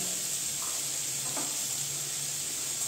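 Green chillies, garlic and nigella seeds sizzle in hot oil in a pan for a Bengali recipe, a steady close crackling hiss throughout with no talk.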